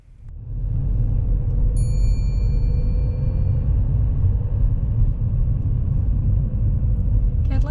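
A car moves slowly along an open road at about 10–12 mph, giving a steady, loud low engine and tyre rumble heard from inside the cabin with no talk.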